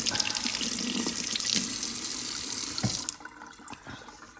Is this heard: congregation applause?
no